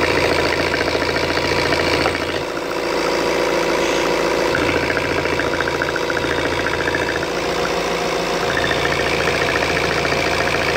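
A Fiat 1.6 Multijet diesel engine with about 18,000 km idles steadily with the oil filler cap off, giving a constant close clattering rumble and a faint blowing hiss that does not change.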